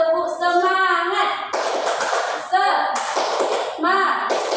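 A class doing a rhythmic 'tepuk semangat' spirit clap, quick bursts of clapping from many hands alternating with voices chanting in between.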